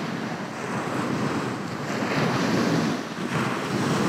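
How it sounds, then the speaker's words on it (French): Steady breeze blowing across an open outdoor setting, a continuous broadband rush with gentle swells in strength, close and fairly loud, with no voices. "je sens la brise du vent"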